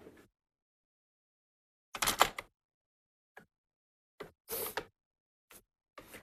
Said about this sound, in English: I'm just going to pop it in my cutter, but I'm going to score it because mine's got a score tool